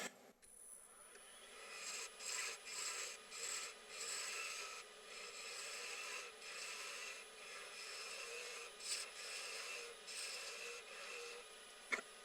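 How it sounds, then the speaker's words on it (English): Steady, soft rasping and scraping of a spindle gouge cutting wood across the grain, repeating in rhythmic strokes, close but quiet with no voices. "I'm doing cross grain, and I'm trying to do this with a spindle gouge."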